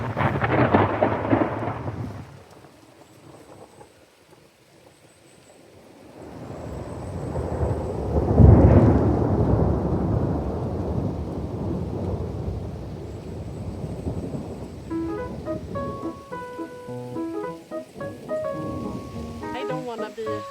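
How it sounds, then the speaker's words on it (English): In a dark Norwegian forest, heavy thunder swells into a deep, long rolling rumble amid the steady hiss of heavy rain, before the storm settles back to a softer wash of rainfall. "thunder."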